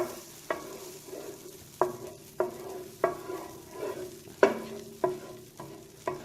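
Butter melts in a pan for low-carb cauliflower fried rice, a soft sizzle running under about a dozen sharp spoon-on-pan knocks spaced roughly half a second apart, close and fairly loud.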